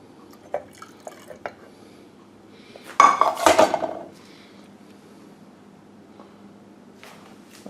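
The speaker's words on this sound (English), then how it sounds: "Now I'm pouring the malt extract mixture into the jug of" Malt extract mixture poured into a jug of apple juice in a quiet kitchen: a few soft drips and clinks, then a short burst of splashing liquid and glass contact, then near silence.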